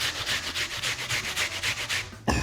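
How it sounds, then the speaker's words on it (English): Half a raw red onion grated on the smallest holes of a box grater, a quick run of about a dozen regular rasping strokes close up, ending in a single sharp knock. "half of a raw red onion and you grate it on a box grater on the smallest holes"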